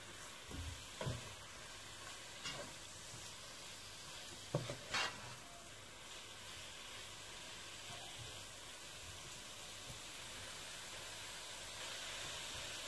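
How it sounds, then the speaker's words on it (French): Rice and chicken mixture for tandoori-style biryani being stirred in a pan, with a soft steady sizzle and hiss underneath and a few brief scraping stirs early on, fairly quiet throughout. "Et je mélange le tout."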